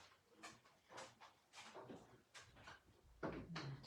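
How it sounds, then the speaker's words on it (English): A door being pushed shut indoors, a few soft knocks and scrapes followed by a firmer thud near the end, faint and close with no talking. "To shut the door again."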